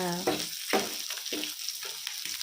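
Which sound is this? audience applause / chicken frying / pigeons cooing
chicken frying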